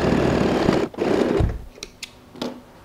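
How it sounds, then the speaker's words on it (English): A sewing machine stitches a rectangular side strap for a zip pouch, a dense motor whir for about a second and a half, then a brief pause and a few short bursts near the end. "We now go ahead and sew this rectangular piece, which is a side strap, and again starting and finishing with a back stitch."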